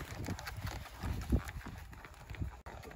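A young horse being started under saddle steps across the ground, its hooves making soft, irregular thuds at close range over a low background murmur.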